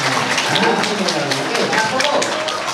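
Students at a school visit event applaud together, a dense, loud patter of many hands clapping mixed with voices and scattered shouts throughout.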